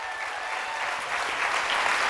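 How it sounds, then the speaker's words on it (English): Applause from an audience at an awards event, a steady wash of clapping that swells slightly louder toward the end, with no voices over it. "Give these people a round of applause."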